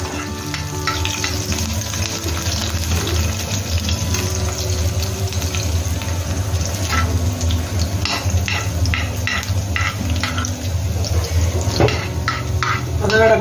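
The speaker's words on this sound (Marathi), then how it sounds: "आता याच्यामध्ये मिरची टाकायची आहे. बघा मित्रांनो, आता जे मिरची टाकलेली आहे थोडीशी ब्राऊन करून घेईल." Green chilies fry with garlic in a pan, a continuous close hiss of hot oil overlaid with scattered clinks and scrapes as the mixture is stirred.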